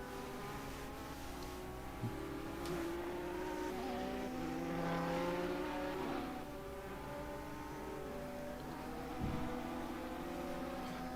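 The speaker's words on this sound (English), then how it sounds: "Here comes a couple of the LMP2 or LMP1, sorry, just coming through." LMP2 or LMP1 prototype race cars in a racing video game sweep through in a steady engine drone, with a couple of passes swelling around the middle and again near the end.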